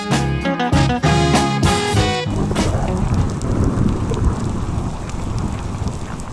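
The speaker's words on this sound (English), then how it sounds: "We had a storm roll in, and it rained most of the night." Heavy rain from a night-long storm falls steadily and close, a dense continuous hiss and patter after a brief stretch of music at the start, with a low rumble suggesting thunder beneath it.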